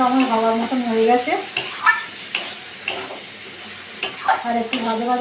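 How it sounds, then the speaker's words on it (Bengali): Leafy greens, santi and gado shak, stirred and fried in a pan with turmeric and salt, giving scraping stirring strokes and light sizzle under a hum of voice-like tones, with a few sharp utensil clicks. "আর একটু ভাজা ভাজা করবো, করে নামিয়ে নেব।"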